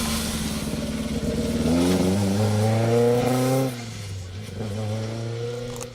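Rally car 37, an H3-class car, accelerates hard along a stage, engine pitch rising through gears before easing off, then pulling again, close by and loud.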